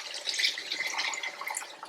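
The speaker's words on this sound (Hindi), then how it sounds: "अब इसमें आप डाल लें पानी" About a cup of water pours into a pan of frying marinated chicken pieces, giving a close, steady sizzle and splashing hiss that fades slightly at the end.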